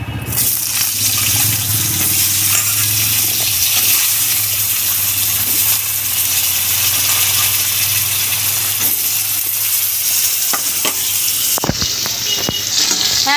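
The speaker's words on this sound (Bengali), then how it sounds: "এবার আমি আলুগুলো ভেজে রাখছি।" Potatoes sizzle and crackle steadily in hot oil in a wok, the frying noise loud and continuous. A brief sharper spatter comes near the end.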